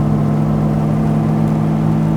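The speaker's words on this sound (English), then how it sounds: "Climbing a hill here, get the revs up." Straight-six XK engine of a 1952 Jaguar XK120 held at steady high revs while the car climbs a hill, a loud continuous mid-pitched drone with a strong hum and no speech.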